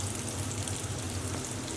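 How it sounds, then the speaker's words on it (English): Blooming onion deep frying in a deep fryer, a steady, dense crackling sizzle of hot oil throughout, close and even with no pauses. "we're going to go ahead and place this straight into our deep fryer like so"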